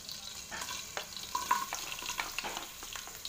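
Garlic frying in a pan while being stirred gives a close, steady sizzle with light scraping and clinking from the utensil, and no talking.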